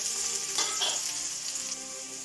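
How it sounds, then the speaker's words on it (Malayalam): Sliced onions hiss in melted ghee with a loud, steady sizzle, with a few stirring scrapes rising over the frying noise. "നെയ്യ് മെൽറ്റായി. അതിലേക്ക് നമുക്ക് ഉള്ളിയിട്ട് കൊടുക്കാം."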